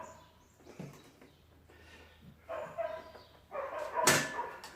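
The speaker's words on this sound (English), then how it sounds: "This is them dogs are having a lot of fun." Dogs barking while playing, a few scattered yips and barks at modest volume, growing louder and busier toward the end, with no talking.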